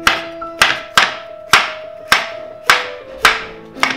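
A knife chops bell pepper on a cutting board while vegetarian yakisoba is prepared, giving eight sharp, evenly spaced taps up close, each ringing briefly before the next.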